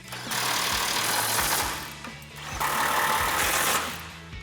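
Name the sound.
impact wrench with 18mm socket tightening control arm bolts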